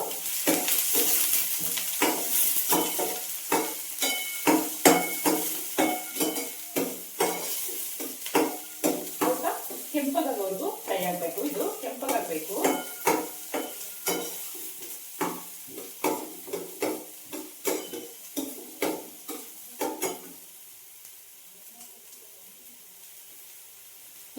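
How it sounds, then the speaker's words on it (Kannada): Chopped onions fry in a pan while a spoon scrapes and stirs them steadily, giving rapid, fairly loud clattering strokes over a soft sizzle. The stirring stops abruptly near the end, leaving only a faint hiss. "ಇದು ಚೆನ್ನಾಗಿ ಫ್ರೈ ಆಗಬೇಕು ಈರುಳ್ಳಿನ ಸೀದೋಗಕ್ಕೆ ಬಿಡಬಾರ್ದು"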